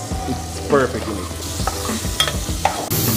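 Chorizo sausage sizzling in a pan with little to no added oil, a steady close frying hiss with stirring clatter throughout and a few brief spoken words over it.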